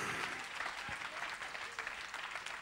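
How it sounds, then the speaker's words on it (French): A church congregation claps during a French-language service, a faint, steady patter of many hands applauding continuously at low level. "Applaudissez Jésus."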